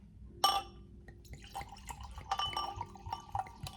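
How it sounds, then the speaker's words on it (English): Wine is poured from a bottle into a wine glass, opening with a bright glassy clink followed by soft, uneven gurgling and trickling, close and quiet. "Grab your favorite bottle of wine, you a wine glass, and pour up, girl."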